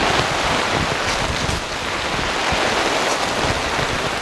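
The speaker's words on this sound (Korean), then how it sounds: "바람도 불어. 바람이 일로 다 들어와." Heavy rain and gusting wind at a campsite during a downpour, a loud, dense, continuous roar close to the microphone with wind buffeting throughout.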